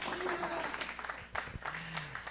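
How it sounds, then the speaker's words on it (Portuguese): Audience applause at an international colloquium on gymnastics pedagogy: a steady wash of clapping from a crowd runs throughout, with a voice speaking over it. "salva de palmas para a Leonela, né?"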